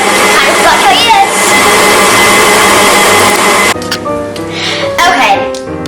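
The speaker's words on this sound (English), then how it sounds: "stop the mixer when it looks like fluffy like this" An electric mixer whirs loudly and steadily while beating cupcake batter, then cuts out, leaving children's voices and chatter in the room.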